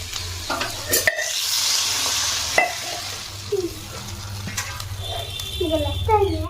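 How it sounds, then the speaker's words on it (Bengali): Curry bubbling and sizzling in a pan as it cooks, with close spoon stirs and clinks against the metal, sharp scrapes breaking a steady frying hiss. "তরকারিটা ফুটছে দেখতেই পাচ্ছ"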